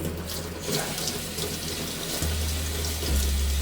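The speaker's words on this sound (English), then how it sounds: "the knife all clean again, rinse that off" A kitchen tap runs steadily over a knife being rinsed in a sink, a continuous close water rush that swells slightly louder toward the end, with no talking.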